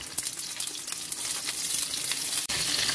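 Shrimp frying in hot oil in a pan, a continuous close crackling sizzle with occasional louder pops, steady throughout with no voices.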